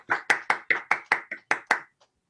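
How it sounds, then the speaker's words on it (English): A single person claps their hands nine times in a steady, close rhythm, each clap sharp and distinct, ending with one faint final tap. "So I'm going to give some physical clapping."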